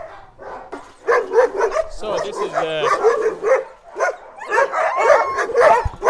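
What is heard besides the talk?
puppies barking and yipping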